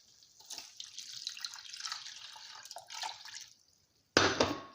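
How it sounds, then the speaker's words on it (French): Milk poured into crepe batter for a minced-meat crepe recipe, a soft trickling liquid pour with a brief pause, then a louder splashing burst near the end; no talk. "Je rajoute le lait."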